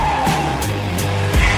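A toy remote-control car skids briefly, a loud close tire squeal and whine with motor buzz over about a second and a half.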